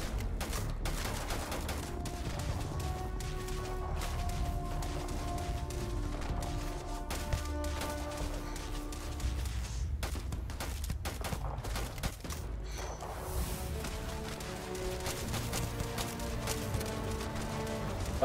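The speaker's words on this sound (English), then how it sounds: "we're in a good old-fashioned firefight" Gunfire in a firefight in the video game Starfield: scattered shots and bursts over a steady bed of game music and ambience, fairly quiet overall.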